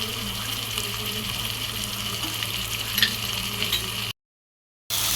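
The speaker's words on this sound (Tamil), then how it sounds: "இதை நல்லா வதக்கிக்கலாம்." Chili and tomato sautéing in a pan for chicken salna, giving a steady, even sizzle throughout with a few faint stirring scrapes before it suddenly drops to silence near the end.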